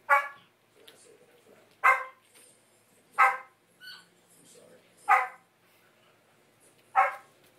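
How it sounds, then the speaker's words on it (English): A dog barks in single sharp woofs, about five spaced roughly a second or more apart, close and fairly loud, with softer yips between. "That's Mama barking."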